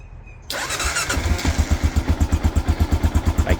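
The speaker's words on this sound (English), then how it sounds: "I'm gonna start the motorcycle now, so you can hear it" A Kawasaki KLR650 motorcycle with a ticking noise fault cranks briefly, then fires up and settles into a loud, close, steady thumping idle with an even pulsing rhythm.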